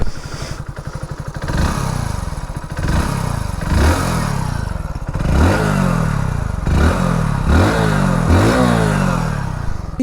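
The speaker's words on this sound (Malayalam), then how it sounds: "ഇനിയിപ്പോൾ എൻജിൻ സൗണ്ട് ഞാൻ ജസ്റ്റ് ഒന്ന് കേൾപ്പിച്ചു തരാം നിങ്ങളെ" A 2024 Hero Splendor Xtec motorcycle engine runs close by, a loud, steady thumping idle broken by repeated throttle blips that rise and fall in pitch.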